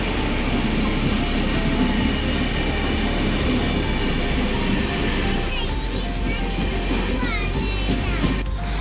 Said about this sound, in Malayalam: Kerala Superfast Express via Kottayam, Palakkad is just arriving on platform number 2.